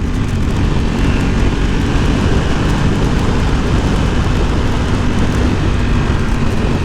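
Steady heavy rain and wind roar during a wet Ducati motorcycle ride, a dense, loud broadband wash with engine rumble underneath, continuous and without a break.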